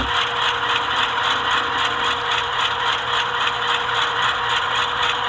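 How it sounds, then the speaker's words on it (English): An HO scale ScaleTrains CEFX AC4400CW model locomotive with an ESU LokSound V5 decoder sounding its loud GE traction motors while in motion, a constant mechanical whine and rattle with a fast regular pulsing, steady and close, with no voices. "with newer ESU V5 sound files, you hear the very loud GE traction motors when the locomotive is in motion"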